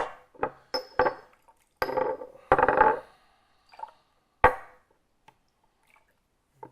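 Water is poured over compressed raw pu-erh tea leaves from a 2005 Nan Qiao Ban Zhang tuo to rinse them. The sound comes as a few short splashes and pours with light clinks of ceramic, close by, with no talking.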